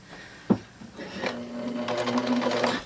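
A sewing machine stitches a seam corner, running a short burst of stitches forward then back, with a steady close motor whirr after a single sharp knock.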